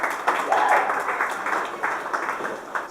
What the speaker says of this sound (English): Let's give Coach Loll a round of applause